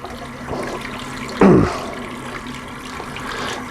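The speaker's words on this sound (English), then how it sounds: "And this is a waterfall faucet." Water runs steadily from a waterfall faucet over a Corian countertop sink, a soft continuous rush with a brief louder splash partway through.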